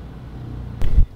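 A car's low engine rumble hums while driving through town, briefly swelling into a louder surge near the end of the short moment.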